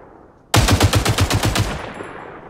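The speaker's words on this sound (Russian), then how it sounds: "Я тут штурм стреляю" Rapid burst of automatic gunfire from an assault-class weapon in the online shooter Caliber, about ten sharp evenly spaced shots that start abruptly, then a ringing tail fading out, loud and without talk.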